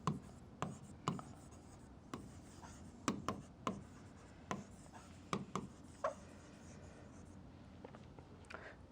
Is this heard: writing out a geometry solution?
yes